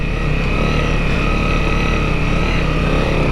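Off-road motorcycle engine chugging in first gear on a Wayne National Forest trail, a loud, close, steady low rumble throughout with no talking.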